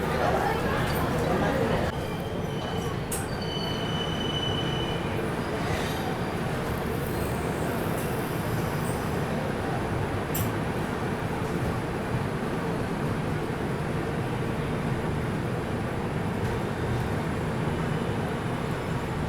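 The Duronto Express, a passenger train running from Delhi to Yeswanthpur, rumbles steadily from inside a carriage with a constant roar of wheels on track, a few squeaks, and people chattering faintly in the background.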